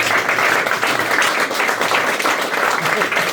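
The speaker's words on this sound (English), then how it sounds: "Clap it up for Rohan, guys." Audience applause and cheering for a comedian at a comedy club, a dense, steady wash of clapping that stays loud and even for the whole stretch.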